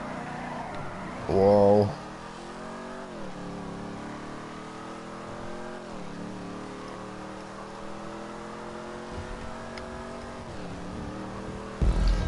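Vapid Dominator GTX muscle car in Grand Theft Auto 5, a continuous engine drone with revs rising and dropping in waves, under a voice exclaiming briefly and other loud bursts near the start and end.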